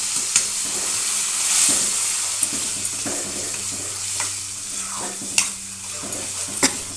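Ground gongura leaves sizzle and frying in a pan while a spoon stirs, with steady close frying hiss broken by sharp scraping taps every second or so; no talking.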